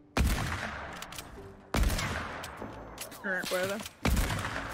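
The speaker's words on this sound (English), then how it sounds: "Someone's shooting at me from far, I think." Distant gunfire in the Fortnite battle royale game, a few sharp bursts of shots spread across the moment, moderately loud, with a player talking briefly over them.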